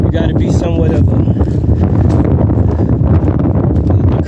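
Strong wind buffets the microphone on a mountain hike, a loud continuous rumbling roar with gusty flutter throughout, and a voice faint beneath it.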